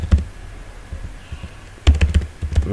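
Keys clatter on a computer keyboard while a database query is entered, a few scattered taps followed by a quicker burst of close, crisp keystrokes with no talking.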